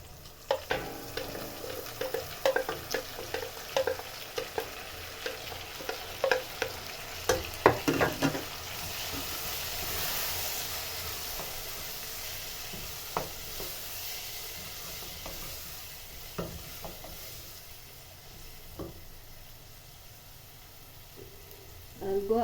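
Tomatoes, grated carrots and courgettes frying in a pan for sausages and Indomie noodles, a continuous moderate sizzle broken by frequent scraping and tapping of a spoon as they are stirred, with no speech.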